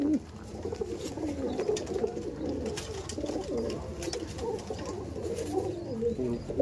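Several Madras pigeons coo continuously at close range, their soft throaty calls overlapping, with faint rustling and background noise.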